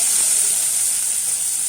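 Dry red chilies and cumin seeds hitting hot oil for tempering give a loud, steady, close hiss of sizzling that holds evenly throughout the short moment.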